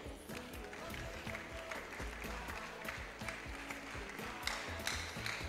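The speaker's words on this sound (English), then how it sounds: "Please let's clap, let's keep clapping." Audience clapping at a university zoology department valedictory programme, steady applause throughout with music or a rhythmic low backing underneath and occasional voices.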